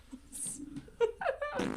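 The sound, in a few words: mouth imitation of a fart noise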